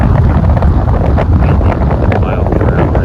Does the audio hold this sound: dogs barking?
no